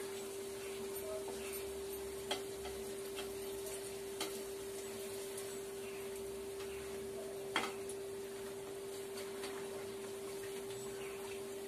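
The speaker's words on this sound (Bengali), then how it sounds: "গরম তেলটা মালপোয়ার উপরে এইভাবে দিলে ওপরটাও খানিকটা ভাজা হয়ে যায়।" Malpua, a sweet batter fritter, sizzles steadily in hot oil in a pan, a soft continuous fizzing with occasional faint clinks from a utensil.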